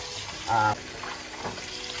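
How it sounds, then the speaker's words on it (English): Tap water running into a sink while goat meat is rinsed, a faint steady stream with a brief louder gush near the start, heard close and alone. "Let the water run."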